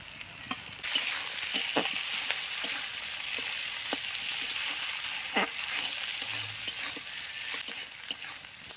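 Spring onion leaves frying in a pan for noodles, a soft, steady sizzle with scattered sharp stir clicks and scrapes, fairly quiet and without talk.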